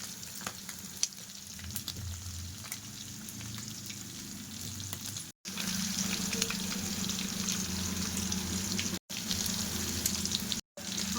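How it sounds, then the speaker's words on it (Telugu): Prawns deep frying in oil, a dense continuous crackling sizzle that holds steady with a few short breaks. "చూసారా ఎంత పర్ఫెక్ట్గా ఫ్రై అవుతున్నాయో"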